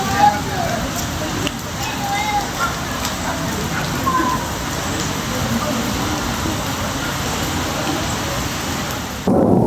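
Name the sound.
heavy rain and thunder at Vaniyambadi railway station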